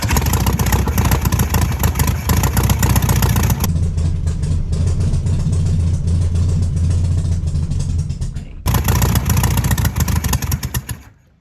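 A 1968 VW Beetle engine, cranked for the first time in 35 years, catches and runs loud and close, then drops to a steadier idle with a low droning tone before cutting out and firing up again briefly.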